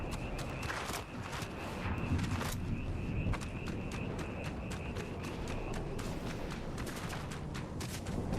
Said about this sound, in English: gunfire east